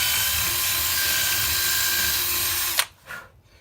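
A power drill whirs steadily at high speed, enlarging a hole while shaping a shorebird's bill, runs for nearly three seconds, then cuts off abruptly and leaves a brief, faint rattle.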